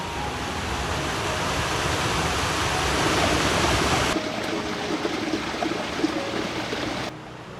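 Steady broadband roar of rushing water, continuous and fairly loud, like a nearby waterfall; the texture shifts slightly partway through.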